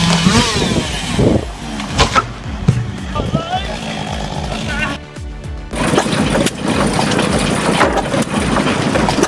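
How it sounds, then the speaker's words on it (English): An old Sandwich hit-and-miss engine powers a log splitter pressing firewood, with a steady low thumping and clattering beneath someone talking over it. "A sandwich hit-and-miss engine powers this log splitter with old-school muscle, pressing firewood with steady iron force."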